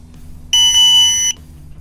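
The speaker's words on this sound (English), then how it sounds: "press and hold the mode button for 4 or 5 seconds until you hear a beep." A TST 507 tire pressure monitor gives one sharp electronic beep of under a second after its mode button is held, clear and close over a low background hum.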